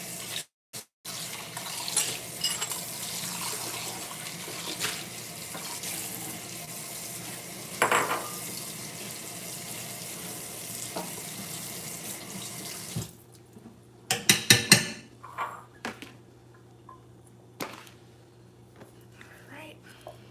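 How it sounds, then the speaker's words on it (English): Tap water runs steadily into a kitchen sink to rinse out a pot after making Jamaican cornmeal porridge with coconut milk. The flow is soft and constant for several seconds, then gives way to clanks and splashes as the pot is handled. "let's rinse this out."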